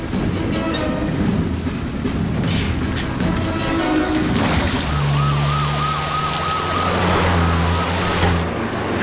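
Several police car sirens wail together with rising and falling tones over a steady rumble of engines, loud and close, with the cars' motors droning beneath the sirens.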